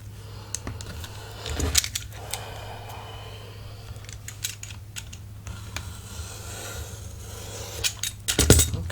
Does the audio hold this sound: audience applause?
no